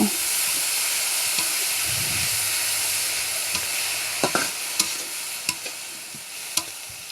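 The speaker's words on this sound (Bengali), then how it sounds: "এরপরে সেই খোসাগুলো দিয়ে দিচ্ছি পটলের আর বিচিগুলো একসাথেই দিয়ে দিচ্ছি এগুলোর সাথে পেঁয়াজটাকে আবারও ভালোভাবে ভেজে নেব" Pointed gourd peels and seeds fry with onion in a pan, a steady hissing sizzle punctuated by several sharp clicks and scrapes of a spatula stirring against the metal.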